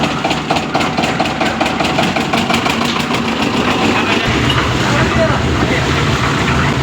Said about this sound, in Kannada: ನೋಡಿ ಹೀಗೆ ಆ ಮಿಷಿನ್ನ ಸ್ಟಾರ್ಟ್ ಮಾಡುವಂತಹ ವಿಧಾನ ಇದು